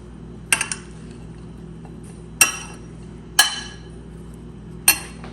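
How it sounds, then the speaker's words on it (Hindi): A metal spoon clinks against a pot while potatoes are mixed for a home-cooked iftar dish, four sharp strikes spaced about a second apart, close and clear over a quiet background. "देखिए इसमें डाल दिए आलू ऐसे। अब इनको करेंगे थोड़ा सा मिक्स।"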